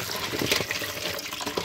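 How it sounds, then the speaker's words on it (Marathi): Water splashes and pours into a basin as shelled, cleaned crabs are rinsed, a busy, close liquid rush with irregular sloshing, heard alone without talk. "जर पाणी घाल बघा"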